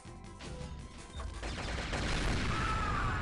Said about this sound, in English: Wait, what's shooting me?